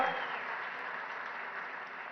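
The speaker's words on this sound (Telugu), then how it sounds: "పెద్ద ఎత్తున మీరు చప్పట్లతోని వారిని అభినందించండి" Steady crowd applause at a political gathering where the Telangana chief minister is speaking, a dense even wash of clapping that holds at one level for about two seconds with no voices over it.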